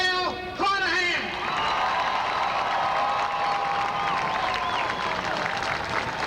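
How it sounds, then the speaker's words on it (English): An audience applauds and cheers for Missouri Governor Mel Carnahan, with the clapping and crowd noise filling the room alongside voices and some tonal sound. "Ladies and gentlemen, a round of applause for one of the greatest governors in the state of Missouri history, Governor Mel Carnahan."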